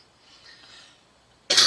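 A single short, sharp cough bursts out near the end after near silence, close and loud.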